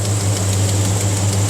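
A 1967 Dodge Charger with a 440 V8 idles close by, a loud, even rumble with a steady low drone and a faint whine above it, with no talk.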